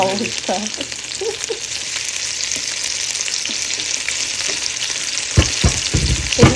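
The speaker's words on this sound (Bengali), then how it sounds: "তারপরে এই কুমড়ো ফুলের বড়া ভেজে নেবো" Pumpkin flower fritters fry in hot oil, a constant close sizzle with faint stirring, then a few louder clatters of a spatula in the pan near the end.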